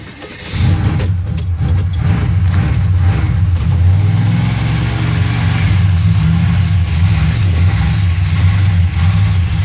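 A 1979 Chevy C10 Silverado truck engine cold-starts on a hot, humid day, cranking briefly before catching and settling into a loud, steady, rumbling idle close by with slight rises in revs.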